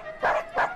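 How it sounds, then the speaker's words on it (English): A dog gives two quick barks in a busy town, bright and yappy, about a third of a second apart and close up. "Dogs barked, and doors banged."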